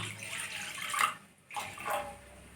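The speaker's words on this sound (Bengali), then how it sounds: "কড়াইয়ের মধ্যে আমি একটু জল দিয়ে দেবো আগে" Water is poured into a wok in a home kitchen, two short splashing pours separated by a brief pause, fairly quiet and close.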